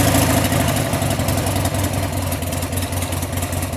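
A 1998 Harley-Davidson XL1200C Sportster engine idles low and steady just after starting, a loud, close, rumbling pulse that continues unbroken with no talking.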